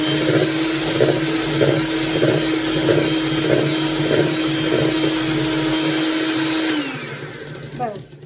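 Electric hand beater running steadily while whipping egg whites into meringue, a loud continuous motor whine with a rhythmic pulse as the bowl is worked, then winding down and stopping near the end.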